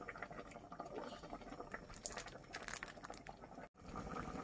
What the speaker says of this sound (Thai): ตอนนี้ก็เดือดกันมแล้วครับเนี่ย